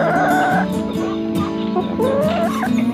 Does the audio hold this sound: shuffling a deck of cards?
no